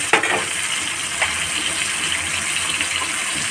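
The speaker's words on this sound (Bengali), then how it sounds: "জিরে, ধনে আর হলুদ একসাথে ভিজিয়ে রেখেছিলাম, সেগুলো দিয়ে দিচ্ছি।" Soaked cumin, coriander and turmeric poured into a pan make a steady wet gushing pour after a short splash at the start, close and fairly loud with no talk.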